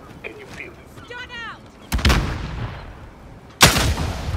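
Gunfire in Call of Duty: Modern Warfare, with two loud, sharp shots about two seconds apart, each leaving a rumbling tail. A faint electronic chirp sounds before the first shot.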